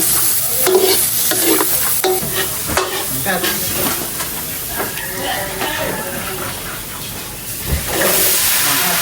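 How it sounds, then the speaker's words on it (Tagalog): Chicken menudo cooking in a pan under an outdoor tent, with a loud, steady sizzle and hiss and occasional stirring clatters throughout. "Magluluto na po ako ng chicken menudo"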